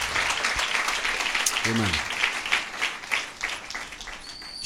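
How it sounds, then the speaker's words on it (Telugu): A church congregation claps in praise during a Sunday service, a steady wash of applause filling the room while a voice speaks over it. "Somebody can clap and praise God."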